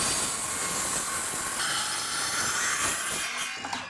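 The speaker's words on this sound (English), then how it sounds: "So to cut down this plywood, I'm gonna follow this black line right here that's already there from the factory." A saw cuts steadily through a plywood sheet along a straight factory line, a continuous loud rasping roar that holds near and constant before trailing off with a few knocks at the end.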